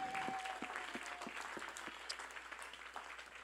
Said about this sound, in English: If you are clapping, clap it for God.